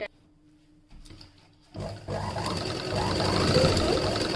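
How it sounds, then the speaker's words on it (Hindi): A sewing machine starts up in short bursts, then runs in a steady, rising whir while stitching a loose seam on the back of a blouse, close and continuous. "इसे हल्का हल्का सा हम सिलाई डाल देते हैं"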